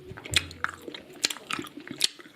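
Strawberry X-Treme Chewits candy being chewed up close, with soft wet squishing and a few sharper crunchy bites spaced irregularly over a couple of seconds, no talking.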